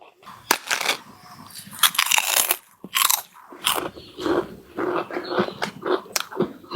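Crisp homemade banana papad being bitten and crunched, with repeated loud, brittle cracks and chewing crunches at close range in bursts throughout, with no talking.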